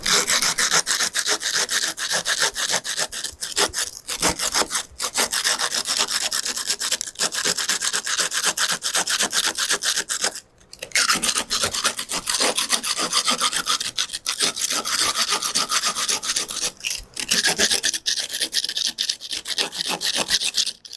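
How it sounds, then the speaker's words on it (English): A standard keyhole saw with rough teeth cuts drywall on an old historic wall in rapid, continuous rasping strokes, loud and close, with a few brief pauses between strokes. "this is a standard keyhole saw for drywall, nice rough teeth"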